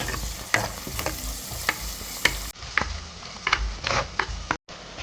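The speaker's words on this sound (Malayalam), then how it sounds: "ഒരു കുറച്ച് കറിവേപ്പില നന്നായിട്ടൊന്ന് വഴറ്റിയെടുക്കാം" Curry leaves and crushed garlic sauté in a pan for crab ghee roast. Repeated spatula scrapes and clacks sound over a constant close sizzle, with a brief dropout near the end.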